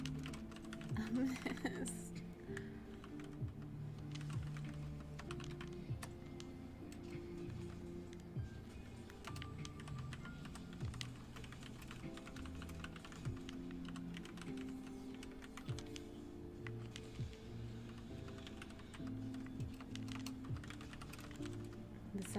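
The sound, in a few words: computer keyboard typing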